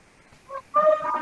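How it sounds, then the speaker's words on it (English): Ducks by a lake give two short, nasal quacking calls close by, the second louder and longer, with no talk. "Wow, there are so many ducks."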